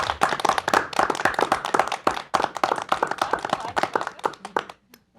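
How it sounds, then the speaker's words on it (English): A small group claps at a school committee meeting, the distinct close hand claps loud and uneven before tapering off and stopping near the end. "It's a good meeting when you can clap."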